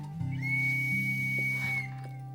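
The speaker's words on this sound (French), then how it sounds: "Je vais siffler le papier." A sustained, shrill whistle made by blowing through a piece of paper holds one high pitch for about a second and a half, with a low droning background underneath.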